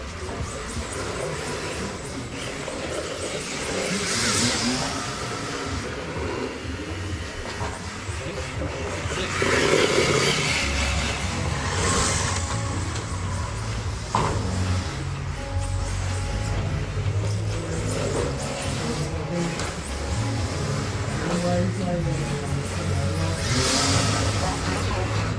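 An MST RMX radio-controlled drift car, green and white, whines and revs through laps on a track, its motor pitch rising and falling steadily and loud throughout.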